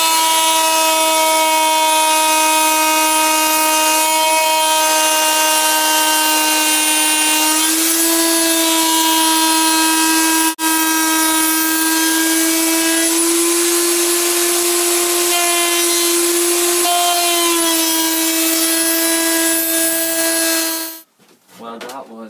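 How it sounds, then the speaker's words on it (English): A power sander works the wood of an Adirondack chair, giving off a steady, loud whine with a faint pitch rise partway through. It runs without a break for about 21 seconds, then cuts off. "I have been sanding the wood for about half an hour"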